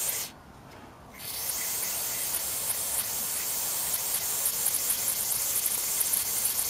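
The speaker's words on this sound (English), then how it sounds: "You can see the stronger the spray, and this can's kind of running out." An aerosol can of MAF sensor cleaner sprays a continuous hissing jet on a Ford, with a short pause near the start before the steady, close spray resumes and runs on.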